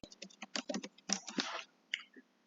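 Quick bursts of close computer keyboard typing, fast clustered key clicks over a couple of seconds with brief pauses, quiet and alone.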